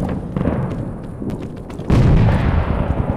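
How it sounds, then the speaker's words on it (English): A grenade explosion in a WWII shooter video game, a loud close boom that hits suddenly partway through over ongoing rumbling battle noise and scattered shots. "Oh, there is grenade in."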